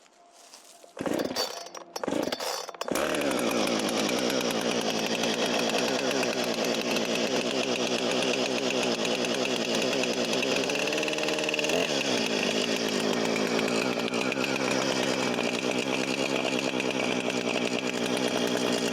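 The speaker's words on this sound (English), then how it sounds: "I've never actually used a chainsaw, ever." A chainsaw sputters through a few short pulls, then roars steadily at high revs for the rest of the clip, loud and close.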